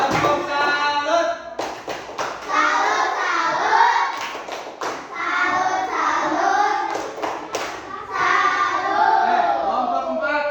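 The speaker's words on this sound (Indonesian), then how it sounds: "Oke, kalau sama tepuk tangan. Oke, tepuk salut." A classroom of children performs the tepuk salut clap routine, rhythmic hand claps and thumps beating in patterns while young voices chant loudly along throughout.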